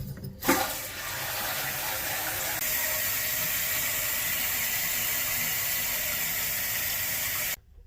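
Water rushes steadily into a toilet tank with a plastic flush valve once the supply is turned on, a loud, even hiss that starts with a sharp burst and runs unbroken before cutting off abruptly.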